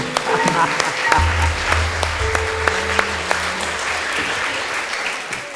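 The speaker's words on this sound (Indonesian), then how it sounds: "tepuk tangan" Studio audience applause at a televised cultural show featuring gamelan, a steady clatter of clapping with faint tonal music and low hum underneath.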